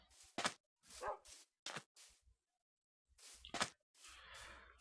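A dog in the video game Minecraft barks in a series of short, sharp yips and barks, several in quick succession with brief pauses, fairly close and clear.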